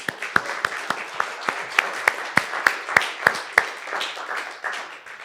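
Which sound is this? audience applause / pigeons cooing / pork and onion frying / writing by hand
audience applause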